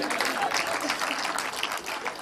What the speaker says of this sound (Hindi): तालियां कमजोर हैं आप लोगों की अभी